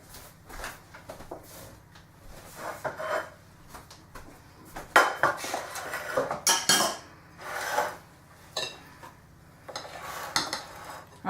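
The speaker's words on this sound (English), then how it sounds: "Now you'll need 2 spoons for dishing out the mixture into the muffin papers." Two spoons scoop chocolate banana muffin mixture into muffin papers, giving irregular clinks and scrapes of metal against a bowl, close and moderately loud, in uneven bursts.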